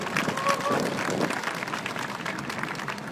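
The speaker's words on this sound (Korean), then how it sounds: "여러분 격려와 응원의 박수를 좀 부탁드리겠습니다" Crowd applause at a public political declaration gathering in Korea fills the space, a dense, steady clatter of many hands clapping, with faint crowd murmur beneath.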